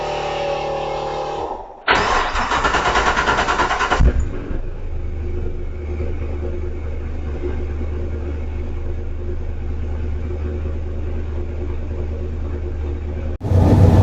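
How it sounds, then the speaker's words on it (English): A warmed-up race car engine with an upgraded racing fuel system cranks and catches after a short pause, then settles into a steady low idle rumble, close by, before cutting off near the end. "I fired it up and have brought it to idling temperature"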